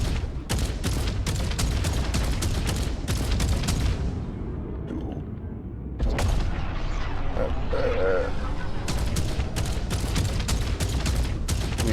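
Ship cannons firing in the co-op spaceship game Jump Ship, a dense barrage of repeated loud booms in bursts, pausing briefly midway before resuming, with voices talking underneath.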